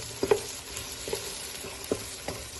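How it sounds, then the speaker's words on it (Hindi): Egg fried biryani sizzles steadily in a pan while being stirred, with a spoon knocking and scraping at regular intervals of under a second, close up and without talk. "भून लेते हैं।"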